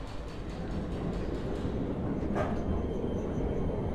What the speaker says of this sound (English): Oh, there's the tram coming.